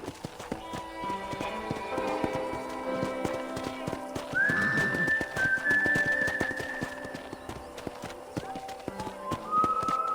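Horse hooves clip-clop steadily on a ranch in the video game Red Dead Redemption, with a horse whinnying and game music or sound effects underneath throughout.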